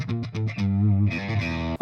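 Electric guitar run through a Walrus Audio Melee fuzz and reverb pedal, set to the reverb-only position: a few short plucked notes, then sustained chords with a long, washy reverb decay, close and loud.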